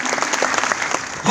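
Audience members at a network marketing event break into loud, dense applause, a crowded crackle of clapping close by that holds steady through the moment.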